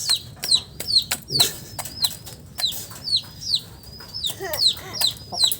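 Small chicken clucking repeatedly in short, sharp bursts, close and fairly loud, with brief wing flutters and rustling between calls.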